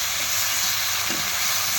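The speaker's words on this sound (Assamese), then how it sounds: "এতিয়া ভাজি আছোঁ মই" Onion, potato, chili, ginger and garlic fry in a pan with a steady close hissing sizzle and a brief soft stir or clink partway through.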